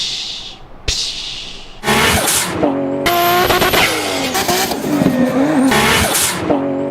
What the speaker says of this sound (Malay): Bunyi ni sebenarnya terhasil daripada tekanan yang dilepaskan daripada blow-off valve ketika korang lepaskan throttle.